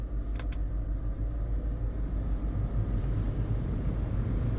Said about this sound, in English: See if this blower works